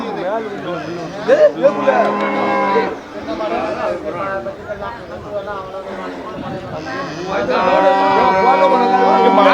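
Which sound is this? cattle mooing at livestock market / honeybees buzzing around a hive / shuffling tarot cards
cattle mooing at livestock market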